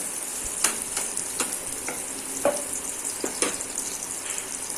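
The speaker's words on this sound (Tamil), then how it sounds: "அதையும் சேர்த்து எண்ணெயிலே நல்லா வதக்கிக்கோங்க" Curry leaves sautéing in hot oil for idli Manchurian give a steady, bright sizzle, punctuated by sharp spoon clicks and taps against the pan at irregular intervals, close and moderately loud with no talking.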